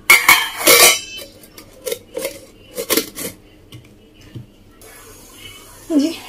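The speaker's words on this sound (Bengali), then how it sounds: "এবার ঢাকা দিয়ে একটা কড়াইয়ের মধ্যে বসিয়ে দেবো।" Metal clatters and clanks as a covered bowl of hilsa fish is set into a metal wok for steaming, several sharp knocks and scrapes in a home kitchen, close and distinct with quiet pauses between.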